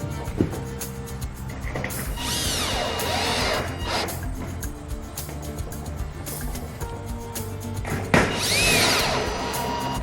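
Power drill driving screws with rubber gaskets down through metal roofing sheets while building a larger pig house, with two loud whining bursts of the screw spinning in, separated by a steady low hum of background noise.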